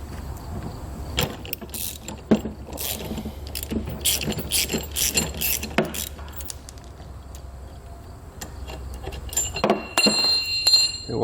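A bolt is loosened with a ratchet and 14mm socket to free the swivel ears from a tow bar, giving repeated clicking ratchet strokes and metallic clinks, fairly close, with a rattle of keys or tools near the end.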